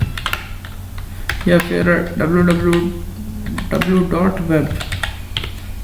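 Computer keyboard typing during a coding tutorial for a Jarvis-style assistant: quick clicking keystrokes run steadily beneath a man's close, continuous talking.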